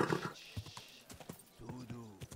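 A horse's hooves clip-clop at a walk and it gives a short whinny near the end, close by, amid brief spoken words.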